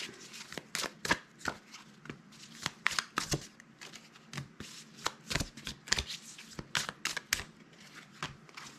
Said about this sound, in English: I'm gonna shuffle some decks here.